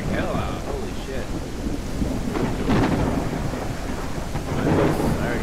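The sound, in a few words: thunderstorm with heavy rain, video game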